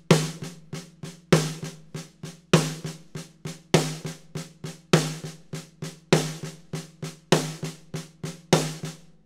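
Snare drum played in steady eighth notes on a drum kit, with clear accents landing on beats two and four, repeating evenly and close-up, alone with no talking.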